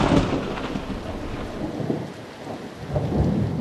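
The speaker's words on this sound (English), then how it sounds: "By midday, the morning's drizzle has turned into torrential rain." Heavy torrential rain pours down steadily at an outdoor archaeological dig, a dense continuous roar with low rumbling and no voices.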